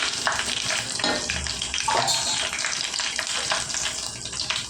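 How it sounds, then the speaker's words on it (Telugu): Garlic fries lightly in hot oil in a pan while making a greens and lentil dal, giving a loud, close, steady sizzle with crackling bursts throughout and no talking. "ఇది కొద్దిగా వేగాలండి లైట్గా వేగితే సరిపోతాయండి"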